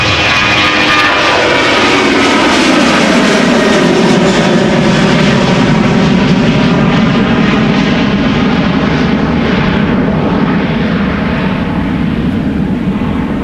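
A jet airliner roars loudly and continuously at Amsterdam Schiphol Airport, a close, sustained engine rumble and whine holding steady throughout with no voices.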